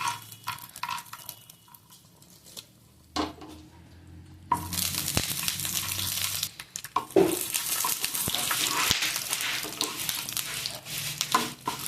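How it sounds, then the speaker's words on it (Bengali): Peanuts drop into hot oil in a kitchen pan and start a steady, loud sizzle and crackle that carries on for several seconds after a quieter opening with a few clinks. "মানে তেল গরম করে কিছুটা পরিমাণ বাদাম দিয়ে দেবো।"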